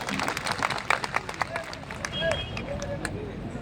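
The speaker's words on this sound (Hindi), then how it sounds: "रमाकांत जी, भाई जोरदार तालियों के साथ स्वागत करने का काम करें" A crowd at a birthday celebration applauds to welcome a speaker, dense clapping strongest at the start, then thinning into murmuring voices and a few scattered claps.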